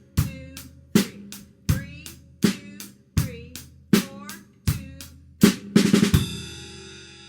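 Drums play the fill from a song leading into the bridge: eight evenly spaced loud hits, then a quick flurry of strokes ending in a ringing cymbal crash that sustains and fades, played alone with no talking.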